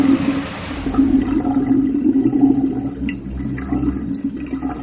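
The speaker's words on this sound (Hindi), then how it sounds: "बेसन में से पानी एक झटके में गरगराता हुआ पाइप से बह गया" Water drains suddenly from a bathroom basin, gurgling and rushing down the pipe in a loud swirl that fades into low, hollow dripping and trickling.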